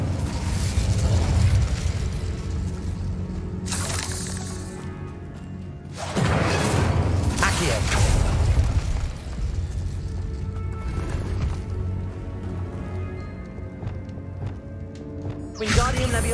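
A fiery Incendio spell blast in Hogwarts Legacy erupts in loud, sustained roaring bursts that rise and fall several times with crackling flame, close and dense, mixed with game ambience.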